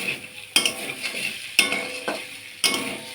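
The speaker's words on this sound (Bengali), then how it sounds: "মশলাটুকু আদা জিরে লঙ্কা বাটা রয়েছে এর মধ্যে, এটি দিয়ে ভালো করে কষিয়ে নেব।" Ginger, cumin and chili paste being stirred and sautéed with fried potato and taro in a pan, with three sharp scraping stirs over a steady close sizzle.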